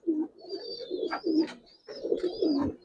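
Several big Giribaz and coloured pigeons coo in repeated throaty bursts at a pigeon market, close and clear, with a thin high whistle-like tone running through the calls.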